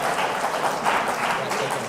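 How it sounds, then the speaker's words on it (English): A short burst of audience applause at a seminar for civil society organisations, a steady wash of clapping hands with no break and no talk over it. "Big round of applause for Mr. Nikhil."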